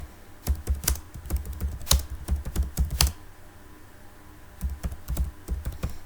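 Quick bursts of clicking computer keyboard keys as text is entered into an HTML file, loud and close, with a short pause midway before the typing resumes.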